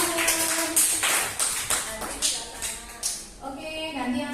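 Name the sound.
applause for everyone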